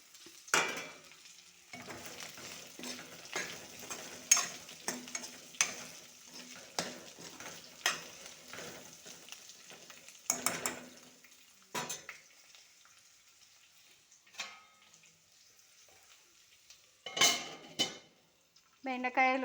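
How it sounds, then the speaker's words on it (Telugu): Ginger-garlic paste fries in a pan ahead of the okra, a soft sizzle broken by frequent metallic scrapes and clanks of a spoon against the pan, close, in irregular bursts with brief quieter gaps. "కొంచెం పచ్చివాసన పోయేంత వరకు ఫ్రై చేశాను ఫ్రెండ్స్"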